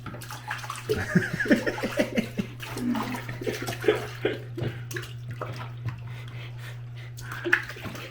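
Steady running water splashes into a bathtub while a cat is rinsed after a bath, a continuous close wash with intermittent splashes and handling noises throughout.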